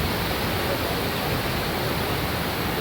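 Sinnakallar waterfall pouring forcefully, a dense, unbroken roar of rushing water that stays loud and even throughout, with no voices.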